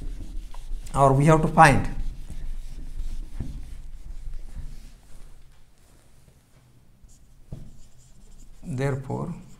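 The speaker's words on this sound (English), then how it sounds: "So I shall write now below." Chalk or marker writing on a board during a calculus lecture, faint intermittent scratching strokes under and between bursts of a voice.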